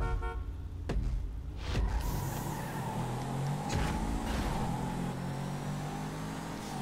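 A car driving in Grand Theft Auto V, engine droning steadily with sharp impacts and tire squeals breaking in, a horn toot mixed in, loud and continuous with no voices.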